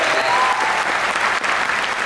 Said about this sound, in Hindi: तो एक जबरदस्त ताली बजाओ यार, जबरदस्त ताली